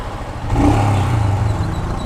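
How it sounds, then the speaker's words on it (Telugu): A Scram 411 motorcycle, sharing its single engine with the Himalayan, idles with a low, throbbing exhaust note that rises into a short rev and then settles into a steady thump. "సో ఎగ్జాస్ట్ నోట్ కూడా సేమ్ హిమాలయన్ లానే ఉంది."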